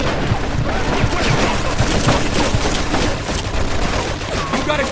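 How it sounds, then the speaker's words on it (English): Dense, continuous machine gun fire in the video game Mafia 2, a loud sustained rattle of rapid shots mixed with battle noise and shouting throughout. "Looks like we found the machine gun!"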